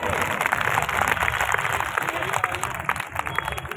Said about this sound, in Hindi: तो सारी बहनों के लिए जोरदार तालियां, एक बार तेज तालियां, भाई तेज बजाओ